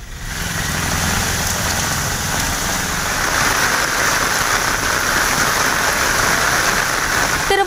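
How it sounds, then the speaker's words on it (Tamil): Heavy rain falling steadily across a district in Tamil Nadu, a dense continuous hiss on surfaces that holds evenly loud for the whole stretch, with a faint low engine rumble early on. "தமிழ்நாட்டின் பல்வேறு மாவட்டங்களில் பரவலாக கனமழை."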